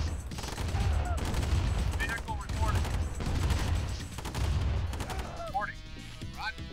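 Rapid bursts of gun turret fire rattle continuously in C&C Remastered, dense repeated shots with bright whistling pings mixed in, loud and close throughout.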